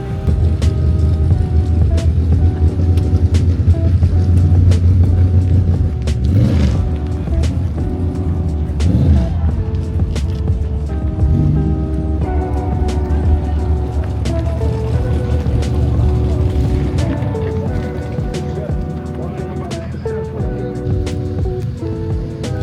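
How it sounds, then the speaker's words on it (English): Cars drifting at a car show, heard as a loud, continuous roar of revving engines with shifting tones and tire noise, close and dense, filling the scene without a break. "the drifting going on over there"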